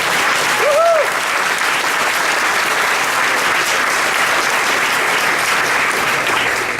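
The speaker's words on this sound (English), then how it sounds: "can we get a round of applause for that?" An audience at a fireside chat gives a round of applause, dense and sustained clapping that stays at an even, loud level throughout, with a brief whoop near the start.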